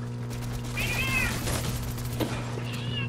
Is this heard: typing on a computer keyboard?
no